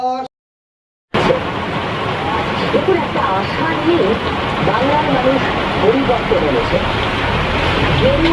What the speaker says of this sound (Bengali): আরো জোর আসছে বৃষ্টিটা।